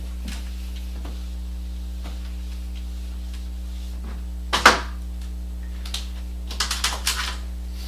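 Code is entered on a keyboard in scattered, sparse clicks over a steady electrical hum, with one louder clack midway and a short burst of keystrokes near the end.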